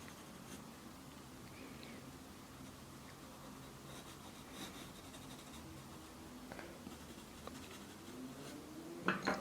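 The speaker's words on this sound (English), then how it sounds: "I'm going to take my charcoal stick before my time runs out and darken those darkest areas" A charcoal stick scrapes steadily across paper while darkening the deepest shaded areas of a quick sketch, a faint, continuous close rubbing hiss with a few slightly louder strokes near the end.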